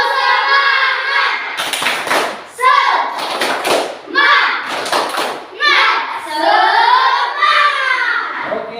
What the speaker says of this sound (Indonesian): sekarang mari kita tepuk semangat dulu sekali lagi